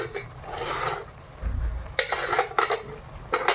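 A kadai of cabbage and green peas is lifted off a gas stove, giving a clattering metal scrape and knock, followed by a few sharp clanks of cookware at close range in a home kitchen.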